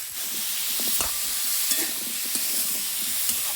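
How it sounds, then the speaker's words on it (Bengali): Potatoes, cauliflower and tomato with salt and turmeric stir-fry in a pan: a steady close sizzle broken by scattered scraping and clacking stirs. "নাড়াচাড়া করে ভাজা ভাজা হোক"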